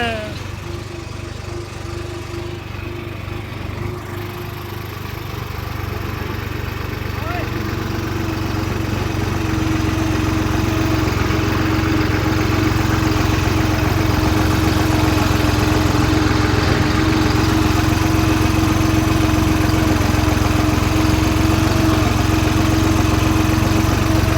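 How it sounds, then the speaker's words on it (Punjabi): A tractor engine, a pusher tractor working a field carrying soil, runs steadily nearby, a continuous rumbling drone that grows a little louder and then holds level, with voices mixed in. "ਹੁਣ ਆਪਾਂ ਪੁੱਸਰ ਟਰੈਕਟਰ ਲੱਗੇ ਆ ਮੈਦਾਨ ਦੇ ਵਿੱਚ"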